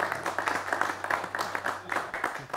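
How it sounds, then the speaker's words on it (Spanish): Brief burst of audience applause for Jorgito Regina on a talk show, a dense patter of clapping hands lasting a couple of seconds, fairly close and steady. "Aplauso para Jorgito Regina."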